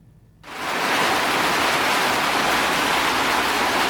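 Heavy downpour at the central market in Bunia, starting abruptly after a brief quiet moment, then a loud, steady, dense hiss of rain with no voices.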